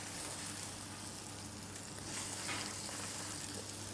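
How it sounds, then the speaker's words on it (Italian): Hot oil sizzles steadily as meat fries in a hot pan, either cast iron or nonstick, with a continuous broadband crackle that holds at an even level throughout, occasionally swelling slightly, and no voices. "Olio caldo."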